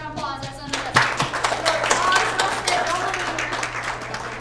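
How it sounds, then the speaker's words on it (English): Children clapping for themselves at a family Sunday church event, a scattered round of hand claps mixed with kids' voices and chatter. "Give yourselves a round of applause."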